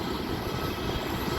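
A large Garuda Indonesia Airbus A330-200 airliner sits at the airport gate while passengers disembark, giving a steady, loud broadband engine roar with no change in level.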